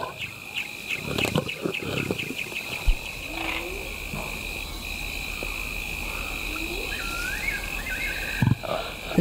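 Forest ambience in a Zululand African forest, with insects and frogs calling steadily over the whole stretch, a few low rumbling animal sounds near the start, and a soft background hum throughout.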